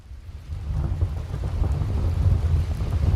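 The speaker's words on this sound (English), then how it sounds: "So you have rain, this thunderstorm." Heavy rain pours steadily while a deep rumble of thunder rolls and builds underneath, loud and continuous with no voices.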